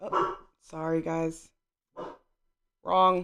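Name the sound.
dog barking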